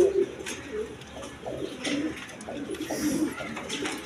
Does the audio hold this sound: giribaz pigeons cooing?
yes